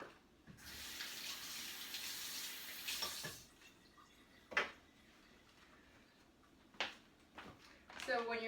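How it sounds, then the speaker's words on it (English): Tap water runs into a kitchen sink for a few seconds as hands are rinsed, a close hiss followed by faint splashes and clinks, with a voice speaking quietly in between. "let me wash my hands because I've got stuff all over my hands"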